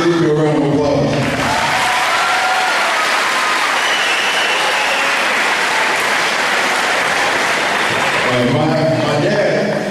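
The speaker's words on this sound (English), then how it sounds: "give me a round of applause" Loud, dense round of applause from an audience at a press conference, filling the room steadily, with voices at the start and end.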